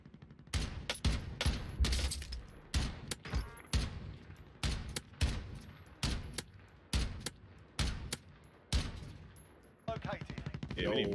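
Rapid bursts of gunfire and sniper shots crack loudly in a shooter video game, repeating in a choppy, irregular rhythm of sharp blasts with short gaps, all close and dominant with no talking over them.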